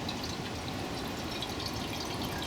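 Water running steadily from a CamelBak hydration system outdoors in the woods, a continuous close hiss of flowing liquid with no break.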